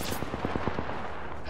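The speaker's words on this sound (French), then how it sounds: "Je me fais tirer dessus!" Rapid bursts of gunfire from an Apex Legends match crack out in a quick rhythmic string of shots, fairly close, then fade into a steady background.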